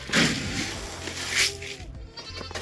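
Goats at a farm feeding area shared with chickens let out a few close, fairly loud bleats over background rustling and noise.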